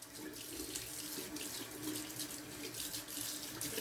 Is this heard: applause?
no